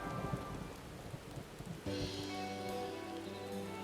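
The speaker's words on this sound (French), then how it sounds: "Super, il pleut. C'est génial, ça m'avait pas manqué." Rain in the video game Final Fantasy XIV: a steady hiss of falling rain runs throughout, with a sustained tonal layer of game ambience swelling in partway through, and no one talking.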